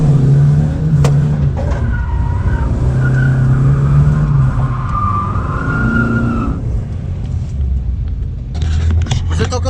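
A BMW E36 with an open differential, new rear tires and 17-inch wheels strains to pull away, its engine revving loudly while the rear wheels spin and squeal for nearly ten seconds.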